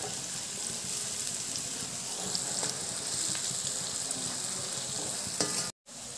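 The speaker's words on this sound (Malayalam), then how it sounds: "ഇതും കൂടി ചേർത്ത് ഒന്ന് വഴറ്റിയെടുക്കാം." Sliced onions and dried red chillies sauté in hot oil in a pan while prawn fry is being made. The steady sizzle holds throughout with soft stirring scrapes, then drops out abruptly near the end.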